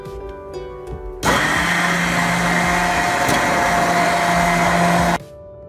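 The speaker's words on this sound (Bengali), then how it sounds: "হ্যান্ড ব্লেন্ডার ইউজ করে আমরা এই কর্ন ও পানির মিশ্রণটাকে ব্লেন্ড করব।" A hand blender whirs loudly and steadily for about four seconds as it purees corn and water, starting and stopping abruptly, with quieter kitchen knocks before and after.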